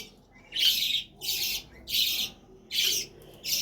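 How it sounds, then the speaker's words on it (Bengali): Many birds squawk and chirp at Birla temple. Four loud, harsh bursts of calling come at roughly even intervals, with quieter pauses between them, and no one speaks. "ওইদিকে রয়েছে বাবারে অনেক পাখি।"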